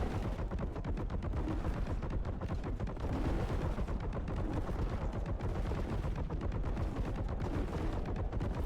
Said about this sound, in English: I have a machine gun with unlimited bullets